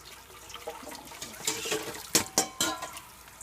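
Tap water runs and splashes in a sink while groats are rinsed and strained, with brief clattering bursts from a strainer or pot and hand movement through the water.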